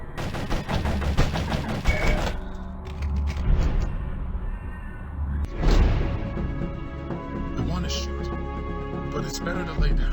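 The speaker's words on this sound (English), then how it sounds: "it is a double barrel shotgun" A double-barrel shotgun fires in a zombie-themed flash game, with several sharp blasts, a burst at the start and single shots later, among game sounds and a player talking over it.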